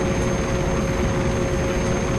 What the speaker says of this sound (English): Damn plane!